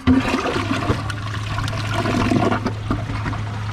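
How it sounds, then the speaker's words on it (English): A 2008 American Standard Champion 4 toilet flushes with a little water in the bowl, giving a close, loud rushing swirl of water with a steady low hum beneath, lasting the whole few seconds. "Here's a flush with a little bit of water in the bowl."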